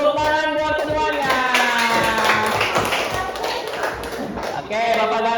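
Children clap in a classroom, a dense burst of rapid, uneven hand claps filling several seconds under singing-like voices, fading slightly near the end.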